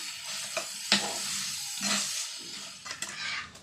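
Prawn bhuna stirred and fried in a pan, close-up sizzling with bursts of louder spitting as the prawns are turned and scraped with a spoon, several uneven stirring strokes over a steady frying hiss, no voices.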